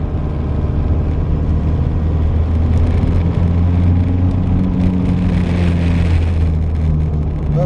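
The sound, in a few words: Citroen CX diesel car driving on the road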